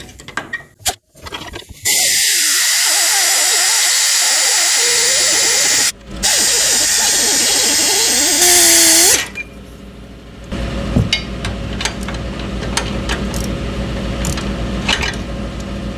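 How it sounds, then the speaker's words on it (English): Loud bursts of a pneumatic air hammer rattling rapidly against metal during strut and shock replacement on a Nissan Frontier pickup, with short hisses of air between runs and a quieter clattering tail. "Little air hammer action,"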